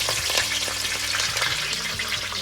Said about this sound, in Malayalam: നമ്മളിതിൽ കടുകിടാൻ പോവാം